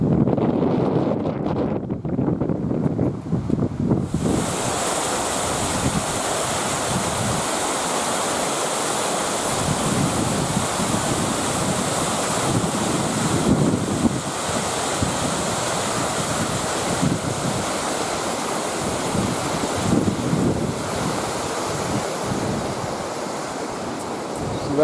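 Strong wind buffets the microphone in gusty roaring rushes on Vancouver Island, British Columbia, continuous and loud after a quieter start.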